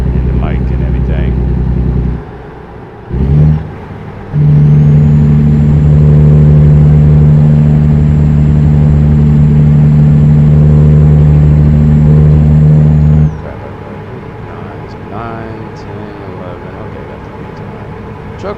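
A steady truck engine drone hums loudly for several seconds with brief dips, like a truck cruising; talking is heard at the start and end.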